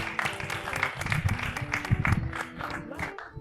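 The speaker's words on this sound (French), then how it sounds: "On l'applaudit, s'il vous plaît" Audience applause at a live French talk show taping, with scattered individual claps ringing out over a murmuring crowd and some overlapping voices.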